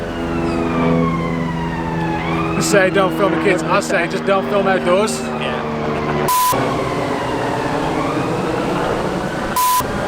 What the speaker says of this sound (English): That's the sound of Warsaw. Sirens.